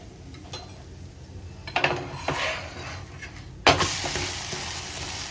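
Uttapam fries in ghee on a pan, a steady sizzle with scraping and stirring noises, a few utensil knocks, and a louder burst of frying near the end.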